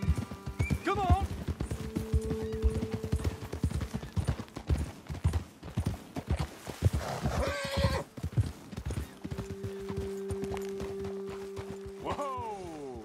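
Horses in a Red Dead Redemption 2 game scene clip-clop steadily at a gallop, with a couple of loud whinnies rising above the hoofbeats, a music-like tonal bed underneath and occasional voices over the riding.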